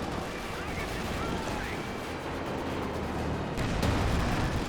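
Panzer IV tank cannon fire in the Company of Heroes 2 video game, a dense, loud barrage of booming gunfire and blasts running continuously through the clip, with a heavier burst near the end, under a busy battle soundscape.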